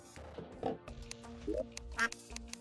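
Terraria duck quacks come in short, scattered bursts, quiet and intermittent, among faint in-game background sounds.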